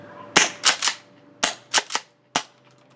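Jag Arms Scattergun gas-powered airsoft shotgun firing rounds indoors: seven sharp, close pops in uneven clusters, some followed by short rattling tails, with quiet gaps and no talking.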